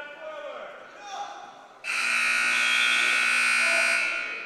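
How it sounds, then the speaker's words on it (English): At a varsity boys wrestling dual meet, a loud electronic buzzer sounds abruptly and holds steadily for over two seconds after a commentator's voice. "Only like 44 possible buzzers we're going to hear today, if we're lucky."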